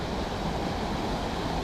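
A waterfall at a trout fishing spot in the Vosges sends up a steady, dense rush of water that fills the whole short stretch evenly, with no voices over it.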